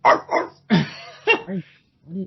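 A man imitates a dog with several short, loud, close barking yaps in a quick uneven series, his voice mimicking the bark rather than a real animal.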